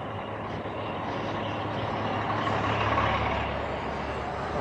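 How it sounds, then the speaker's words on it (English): A New York City bus pulls in amid steady, loud street traffic, its engine rumbling with a low drone and a constant broadband roar that swells slightly midway through. "bus moving in"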